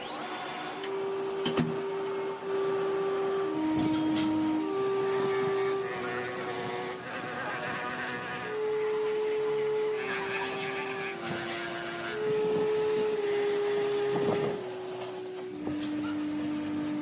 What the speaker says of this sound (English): First, they remove the worn-out top layer of rubber and grind down the rubber completely in the areas where there are punctures.